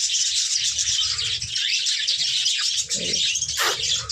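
Small pet birds nesting in a clay pot give steady, bright high chirping close by, with soft rustling and a brief louder call near the end.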